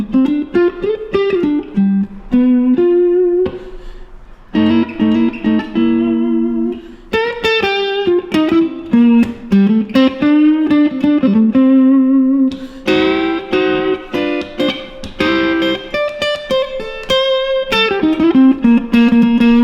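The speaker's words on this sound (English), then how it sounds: "I've set it up for sort of like an edge of breakup type sound with the reverb about halfway" A Silver Sky electric guitar plays a melodic line through a Laney Lionheart Loudpedal set for edge-of-breakup tone with reverb about halfway, loud and close, with sustained notes and slightly gritty picked phrases.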